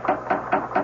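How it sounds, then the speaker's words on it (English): Four quick, evenly spaced taps on a closed glass door in a radio drama sound effect, light and close, in a steady rhythm. "I heard it tapping on the closed glass door."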